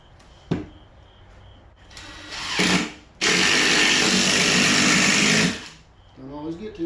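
A power drill drives screws into a wall on a mobile home floor: a short buzz, a brief rising whir, then a loud, sustained run of about two seconds as a screw goes in, with occasional speech around it.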